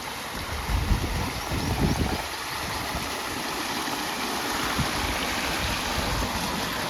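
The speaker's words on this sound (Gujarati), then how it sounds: "આ રીતનું પાણી આવે છે" Water gushes steadily into an irrigation channel on a farm field, a continuous close rushing wash that holds even for the whole stretch, with a faint low engine-like rumble beneath and no talking.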